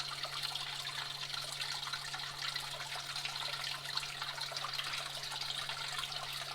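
Water pours and trickles steadily over rocks and gravel while panning for gold, a continuous wash of flow with a low steady hum beneath it.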